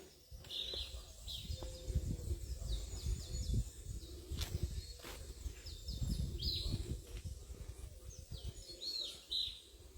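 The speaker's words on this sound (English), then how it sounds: "let you hear the silence of the morning and the birds" Several birds sing and chirp in repeated short phrases on a quiet morning at the Flower Forest botanical gardens. Calls come from near and mid distance over a soft low ambient hum.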